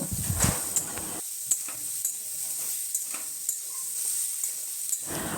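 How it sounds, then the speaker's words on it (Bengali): Bori lentil dumplings fry in oil in a wok with a steady sizzle, joined by occasional stirring scrapes and a louder burst of crackling at the start and end. "বড়িগুলোকে আমি 2 মিনিট অবধি ভেজে নেব।"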